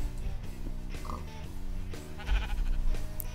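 Sheep bleating in the video game Minecraft, a few short wavering calls over a busy game soundscape with background music, fairly close and moderately loud.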